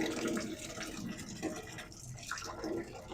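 Warm water swirls and sloshes as magnesium sulfate is stirred in, a continuous close-up liquid churning with small splashy surges throughout.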